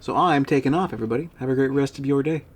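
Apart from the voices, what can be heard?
None of the usual background noises is heard.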